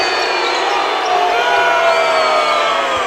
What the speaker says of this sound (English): Crowd reacting here to the replay